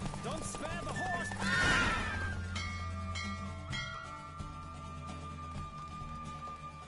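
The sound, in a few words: horse neighing and galloping in The Witcher 3 video game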